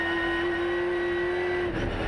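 A race car circling a track during Speedweek motor racing coverage, its engine holding a steady, even tone before a brief stutter near the end, loud and continuous with no talk.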